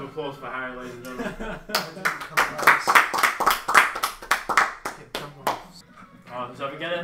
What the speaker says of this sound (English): Let's give a round of applause for Harry, ladies and gentlemen.